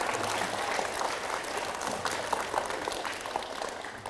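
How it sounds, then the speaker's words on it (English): An audience at a public library magic show applauds, a dense, even wash of clapping that holds steady for a few seconds at moderate distance. "Round of applause, please."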